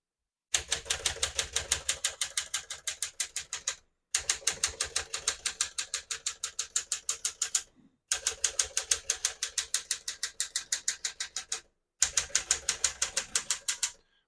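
A 1961 Smith-Corona Sterling manual portable typewriter clacks in rapid, rhythmic bursts of keystrokes, separated by brief silent pauses, loud and close.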